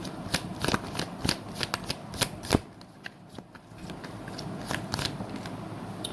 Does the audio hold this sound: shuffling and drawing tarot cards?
yes